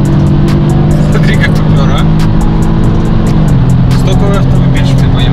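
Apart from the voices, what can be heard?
BMW X3 M40i accelerating past an Audi S3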